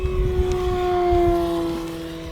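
An E-Flite Extra 300 RC aerobatic plane makes a full throttle pass, its motor giving a steady high whine that swells and fades slightly as it goes by, over outdoor background noise.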